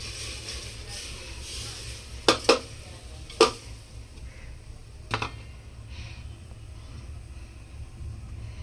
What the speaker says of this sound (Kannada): ಎಲ್ಲ ತರಕಾರಿ ಎಲ್ಲ ಕಟ್ ಮಾಡಿ ಇಟ್ಕೊಂಡಿದ್ನಲ್ಲ ಅದೆಲ್ಲ ಕುಕ್ಕರ್ಗೆ ಹಾಕೋಣ.